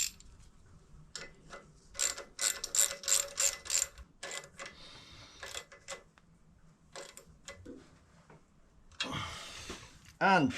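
Ratchet tightening nuts onto a bolt on a custom shed-built bobber motorcycle, fast clicking bursts in several runs with pauses between, close by, followed by a brief scraping rub.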